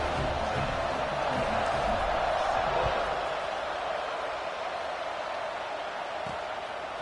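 A stadium crowd in a college football video game cheers at the kickoff after an extra point against Ole Miss, a steady, dense roar that fills the whole stretch.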